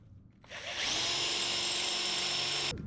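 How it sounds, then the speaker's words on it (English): A power drill bores into motorcycle parts while fitting a GPR steering stabilizer on a 2024/2025 Kawasaki Ninja ZX6R. It spins up sharply into a loud, sustained, high whine, holds steady for about two seconds, then cuts off abruptly. "Make sure you're not drilling too far into the washer or anything to ruin that."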